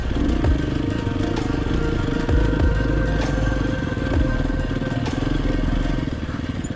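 A smaller dual sport motorcycle rumbles steadily over rocks and soft dirt on a backcountry track, engine droning loud and close with rattling clatter and occasional thumps from the rough ground.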